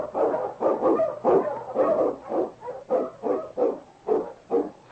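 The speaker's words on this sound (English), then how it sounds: "The Wonder Dog King, swiftest and strongest of Eskimo lead dogs, blazes the trail through storm and snow" An Eskimo lead sled dog barks again and again in a steady, loud run of about ten close barks, heard on an old radio drama recording.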